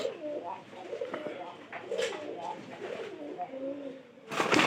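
Pigeons coo in a close, soft burbling series, their calls weaving under a voice, followed by a brief flutter-like burst at the end.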